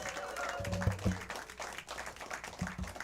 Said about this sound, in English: Give a huge round of applause for James Vickers